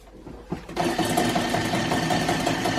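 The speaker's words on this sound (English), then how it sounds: "And now we're going to whisk these together until they are light, pale and fluffy." Electric hand whisk beating gluten-free chocolate brownie batter, a steady loud motor whir that starts abruptly after a brief quiet lead-in and runs continuously close by without talk.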